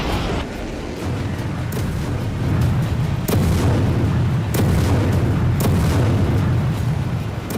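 Artillery strikes boom repeatedly in a war zone, a series of heavy explosions with sharp onsets around every second or so over a constant low rumble, loud and close with no voices.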